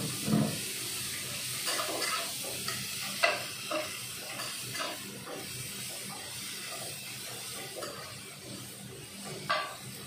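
Bean sprouts tossed into a frying pan with tempeh, giving a steady sizzle and hiss with scattered stirring clatters and scrapes throughout, fairly quiet and close.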